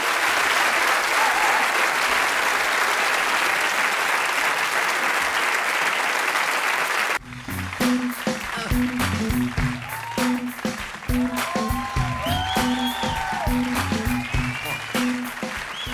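A comedy show audience applauds the comedian with thick, continuous clapping that stops abruptly about halfway through. Music and scattered sounds follow.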